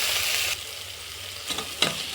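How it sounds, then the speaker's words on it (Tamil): Tomatoes sautéing with mint and coriander leaves for chicken biryani, a steady close sizzle that eases after the first half-second, then two short scraping stirs near the end. "தக்காளி நல்லா நசுங்கிற வரைக்கும் நல்லா வதக்கிக்கலாம்"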